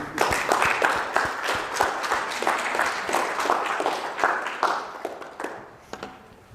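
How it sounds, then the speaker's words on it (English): Listeners applaud after a keynote talk on AI at work: a thick wash of clapping from many hands, strong for several seconds, then thinning out into a few scattered claps as it dies away. "Round of applause for yourselves."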